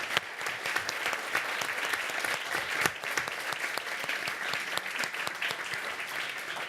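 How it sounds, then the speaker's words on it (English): Audience applause for a panel at a justice-themed discussion: many sharp, distinct hand claps in a lively, steady burst, moderately near and sustained throughout. "giving a big round of applause to the panel."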